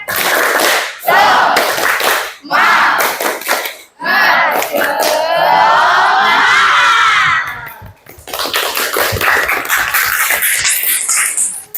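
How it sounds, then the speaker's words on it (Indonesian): A class of children performs a rhythmic spirit clap, loud bursts of patterned hand clapping broken by short pauses, mixed with children's voices chanting and shouting along. "Kita tepuk semangat dulu ya"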